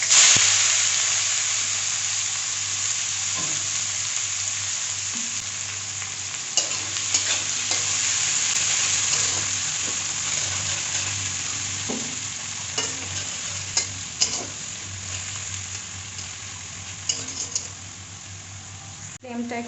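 Onions frying in oil with a five-spice tempering and chilli for coriander tilapia, a steady sizzle with stirring clicks and scrapes running through, with a voice talking over it at times.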